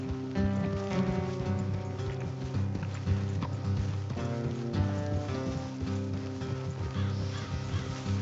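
Horses trotting in the video game Red Dead Redemption 2, a steady clip-clop of hooves running beneath a dense, continuous bed of music and ambient game sound.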